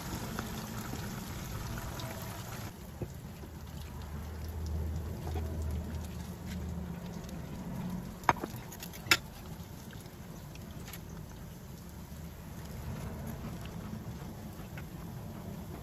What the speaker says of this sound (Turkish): Kalanları aynı yöntemle kızartmaya devam ediyorum.